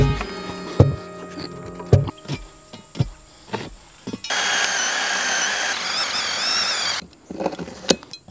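On a homestead, a tractor-mounted post hole digger works the ground: scattered metallic knocks and thumps, then about three seconds of sustained whining, grinding drone, then more knocks.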